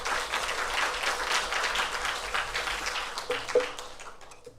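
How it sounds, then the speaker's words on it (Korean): A church chapel congregation applauds the string players, a dense steady clapping that carries for several seconds before thinning and fading out. "우리 현악기 연주해 주시는 분들에게도 우리 감사의 박수 하겠습니다"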